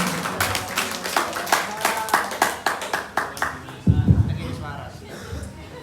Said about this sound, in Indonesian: Tepuk tangan dulu untuk Pak Rahmat.